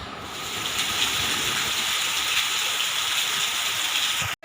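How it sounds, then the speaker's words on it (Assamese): Heavy rain pours down outdoors in a dense, continuous hiss that stays loud and even for several seconds before cutting off abruptly. "এতিয়া খুব ডাঙৰকৈ বৰষুণ দিছে"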